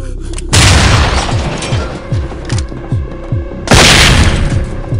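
C2 breaching charges go off on doors in the video game SWAT 4: two loud, close blasts, each followed by rapid rattling debris and a stretch of lingering rumble.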